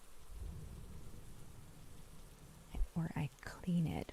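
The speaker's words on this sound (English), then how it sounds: "And the rain is a sound effect." Rain and rolling thunder as a background sound effect, a steady soft patter with a low rumble swelling early on, then soft whispered talk over the storm toward the end.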